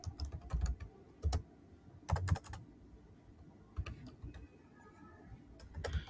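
Bursts of keystrokes on a computer keyboard while code is entered, clustered in short quick runs separated by pauses, close and fairly quiet with no talking.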